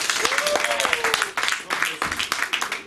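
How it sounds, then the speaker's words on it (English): Audience applause at a marriage seminar, a dense stretch of clapping from a congregation under loud ongoing talk, filling the whole moment. "Let's clap for Jesus"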